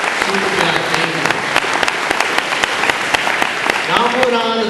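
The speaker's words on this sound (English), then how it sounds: "Please give them a round of applause." Crowd at a high school commencement ceremony gives school staff a round of applause, dense continuous clapping throughout, with a voice speaking faintly over it near the end.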